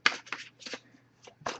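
Oracle cards from a deck being shuffled by hand: several quick, soft riffling bursts close by, separated by brief pauses, fairly quiet with no talking.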